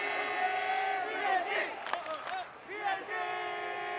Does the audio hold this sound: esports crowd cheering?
yes